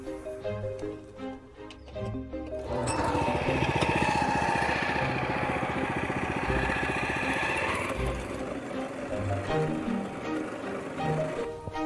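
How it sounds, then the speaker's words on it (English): A motorised turf cutter stripping away an existing lawn runs as a loud, steady engine drone for several seconds, then eases off, with other background sound before and after. "the next step is to remove your existing lawn using a turf cutter"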